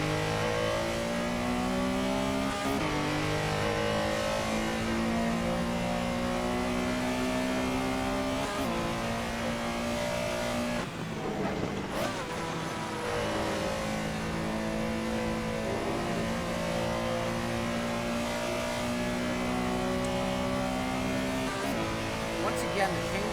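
Porsche Carrera SR racing car engine in Assetto Corsa at Spa-Francorchamps, revving up and down through gear changes with steady loud harmonic drone and a brief lift around midway, continuous throughout.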